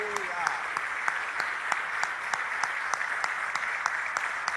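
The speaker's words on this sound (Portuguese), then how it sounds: "deem a Jesus uma linda salva de palmas" A church congregation applauds for Jesus at a worship service, a steady wash of many hands clapping at moderate level with regular sharper claps through it, a brief voice heard at the very start.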